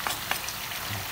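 Marinated field rat fries in a pan with a constant close sizzle and crackle, a couple of sharper pops and spatters, no voices.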